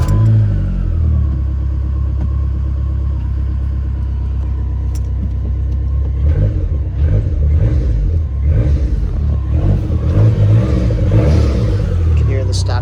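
A 2005 Dodge Neon SRT-4 with only 1,600 miles turns over from a cold start in neutral and settles into a loud, rumbling idle, then revs in several rising bursts, with voices talking over the engine.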